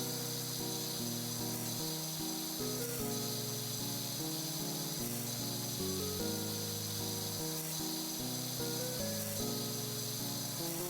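A pressure washer in PowerWash Simulator sprays water with a steady, continuous hiss, while a stepping musical tone line shifts underneath throughout.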